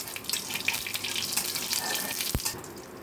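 Dry red chillies and white cumin hit hot oil in a pan, giving a steady close hiss and crackle that continues for about three seconds with a low thump near the end.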